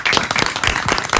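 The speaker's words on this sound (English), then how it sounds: "I'm going to applaud Fred right now." Studio applause and clapping from a small group on a talk radio show, dense and steady for a moment, up close.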